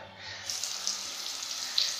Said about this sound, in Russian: Вода работает.